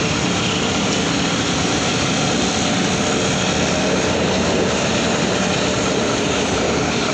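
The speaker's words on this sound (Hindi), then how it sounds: "मोटरों का बहुत ज़्यादा शोर है।" Loud, constant roar of air conditioner condenser fan motors running nonstop, a dense mechanical drone that fills the whole clip with no pauses.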